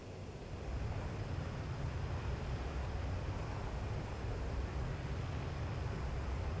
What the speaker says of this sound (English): Move the throttle forward, onto zone 3 of the afterburner range.